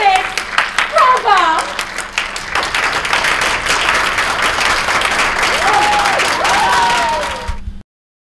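Big audience applause for a community theater group, dense sustained clapping close up with some cheering, while a voice talks over it before it cuts off abruptly.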